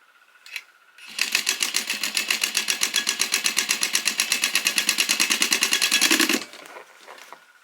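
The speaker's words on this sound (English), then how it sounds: "And then you're just going to sew that down." A sewing machine stitches a grocery tote bag in one continuous run of rapid, evenly spaced needle strokes lasting about five seconds. It starts and stops sharply, close and clear with no talking.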